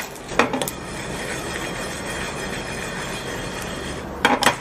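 A spoon scrapes and stirs spices and dried chillies dry-roasting in a pan for Chettinad paneer masala, in two short clattering bursts at the start and end over a steady background hiss.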